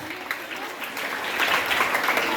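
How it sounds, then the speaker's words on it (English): Students applaud newly elected class representatives at a school results announcement, a steady wash of clapping from a group that grows slightly louder toward the end. "So dear students, give them a big round of applause."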